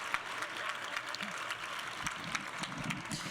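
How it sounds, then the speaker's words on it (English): A room full of people at a women's leadership conference applauds steadily, a dense patter of clapping held at even loudness throughout. "a round of applause for the wait staff with us here who have taken care of us so well"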